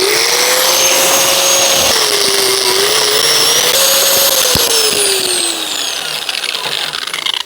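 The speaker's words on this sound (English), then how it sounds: "grinder with a wire wheel" An angle grinder fitted with a wire wheel whines loudly and continuously at close range, its pitch dipping and rising as it bears on a car's front brake parts, then easing slightly near the end.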